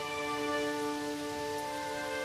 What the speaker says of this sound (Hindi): तभी तेज बारिश फिर से शुरू हो जाती है और झोपड़ी की छत से भी पानी बरसने लगता है।